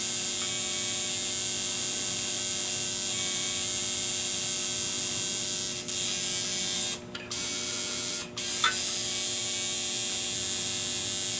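A tattoo machine buzzes steadily and loudly at close range, with a brief pause and a couple of small clicks near the end, no speech.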